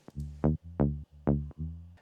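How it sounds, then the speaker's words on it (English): A tech house sine bass from Ableton Operator, filter-enveloped and pushed through drum bus distortion, pulses in a short repeating riff of gritty, swelling notes, heard alone. "I added the drum bus for some distortion."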